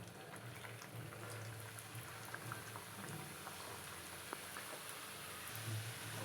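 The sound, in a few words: samosas deep frying in hot oil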